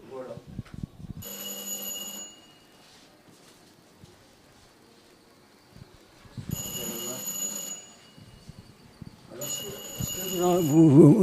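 A small electric bell on a model machine rings in short bursts, one ring then a pause and two more, with voices talking in between and near the end.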